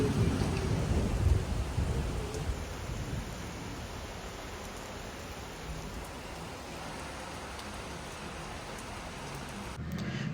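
Evening rain and thunderstorm: thunder rumbles loudly at the start over a steady wash of rain that keeps falling evenly through the rest, with no voices.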